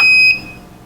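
Toaster beep as its bagel setting button is pressed: a single loud, clean electronic tone with a high pitch, cut short and fading within a second, heard alone.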